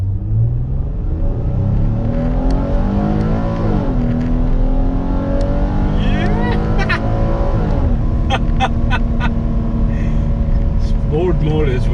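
A 2018 Ford Explorer mid-size SUV in sport mode pulls away from a green light, its engine rising through the revs and shifting gears in a smooth climbing drone while someone talks over it.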